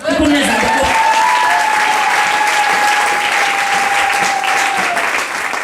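A church congregation applauds throughout a French-language sermon, steady and loud clapping filling the room with a faint sustained tone above it, and a preacher's voice heard briefly at the start.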